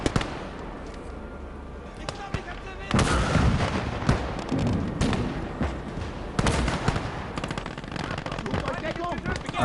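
Mines detonate beneath an advancing infantry wave on an Eastern Front battlefield in Call to Arms: Gates of Hell, a dense, loud barrage of blasts and crackling gunfire that grows heavier after the opening seconds and keeps rolling without pause.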